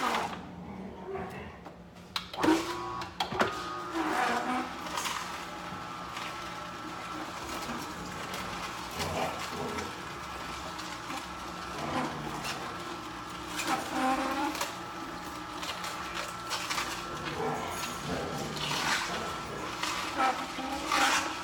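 A juicer machine working through celery and watermelon gives a continuous grinding, scraping whir that runs steadily through the whole stretch at moderate level, with a few louder bumps near the start.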